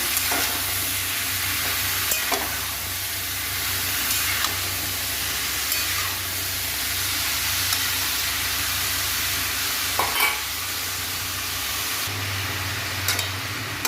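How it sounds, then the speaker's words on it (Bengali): Cabbage, peas and tomato frying with spices in a pan: a continuous close sizzle with occasional spoon scrapes and stirring knocks, no voices. "বাঁধাকপি মটরশুঁটি দিয়ে দিলাম আমি ভালো করে কষে কষে নেব মশলাটা"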